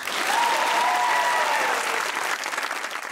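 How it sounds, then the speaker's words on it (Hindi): A studio audience breaks into steady, dense applause for a comedy talk show, a bright continuous wash of clapping lasting a few seconds at moderate level. "अगर हैं तो तालियां बजाएं।"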